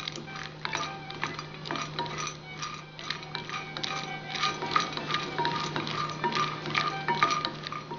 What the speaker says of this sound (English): I'll roast it until it starts turning light brown